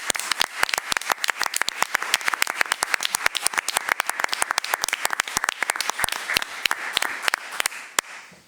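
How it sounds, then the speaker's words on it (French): Applause at a municipal council session, a steady run of sharp, distinct claps at a fairly even rhythm, sounding like a small number of people clapping in a meeting room for several seconds. "ce soir, contentez-vous d'une main d'applaudissement,"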